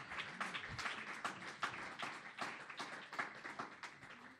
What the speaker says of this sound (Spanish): démosle un aplauso a Dios, que Él vive para siempre